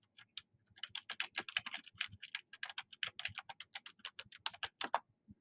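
Rapid, steady typing on a computer keyboard, dense clicking keystrokes close up and fairly quiet, continuous for several seconds with no talk.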